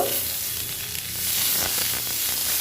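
Green chili, dried chili, ginger paste and radhuni spice sautéing in hot oil, a loud, continuous crackling sizzle with light stirring swells, close and unbroken.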